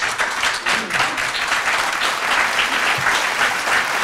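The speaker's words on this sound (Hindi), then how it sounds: "जब वो तशरीफ़ लाएं तो उनका तालियों के साथ इस्तकबाल कीजिए" An audience at an Urdu literary gathering in California claps to welcome a singer, a dense, even burst of applause from many hands, fairly close and without speech.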